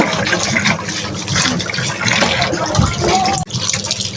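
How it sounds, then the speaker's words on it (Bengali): Beef tripe being rinsed clean under running water, with steady splashing and pouring that stays loud and continuous throughout, briefly cutting off near the end before resuming. "আমি এখন খুবই ভালো করে ধুয়ে নিচ্ছি ভুঁড়িটা"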